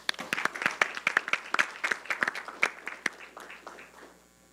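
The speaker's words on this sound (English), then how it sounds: "Can we give our top 6 another round of applause, please?" At a high school changemaker competition, a fairly small audience applauds, the individual claps sharp and distinct at first, then tapering off and fading out after about four seconds.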